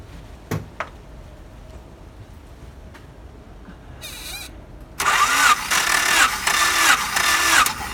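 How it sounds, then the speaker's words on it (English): Honda engine being cranked by its starter during a cylinder compression test, a few clicks and quiet, then a loud, close, rhythmic churning of cranking for about three seconds. "I will crank it for 4 revolution more"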